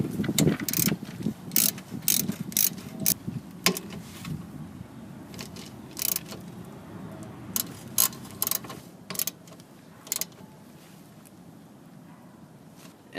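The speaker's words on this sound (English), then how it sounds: "We're gonna use our ratchet with the 14mm socket to tighten these up." A hand ratchet fitted with a 14mm socket clicks in rapid repeated bursts while tightening rear brake caliper bolts on a 2002 Honda CR-V, then slows to a few spaced clicks.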